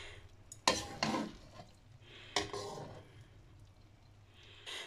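Restaurant-style fried rice without egg is mixed in a pan, with two loud bursts of scraping and tossing against a hissing background, then quieter stirring and a final clatter. There is no talking.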